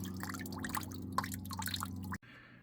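Coolant drips from a BMW 335i N54 cooling system during draining, with scattered irregular drips and splashes over a steady low hum, then a quieter tail.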